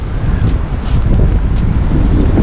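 Strong wind during a severe windstorm in Poland buffets the microphone in a steady low rumble, with a few brief gusty hisses on top; no voices.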